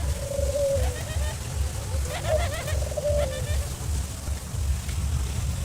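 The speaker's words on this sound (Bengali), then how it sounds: "ওই পাশে দেখছি ডায়মন্ড ঘুঘু, এই পাশে অস্ট্রেলিয়ান ঘুঘু" Australian doves and diamond doves coo a few times in a park. The soft, repeated coos sit over a steady low rumble of background noise.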